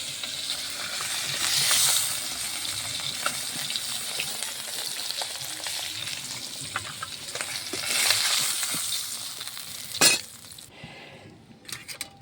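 Onion and tomato sizzle in a pan where fish was just fried, a steady crackling hiss broken by light clinks of a utensil and one sharp knock near the end.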